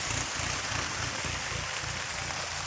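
Steady, dense rain pattering on a surface in a farm field during sowing, constant throughout with no voices.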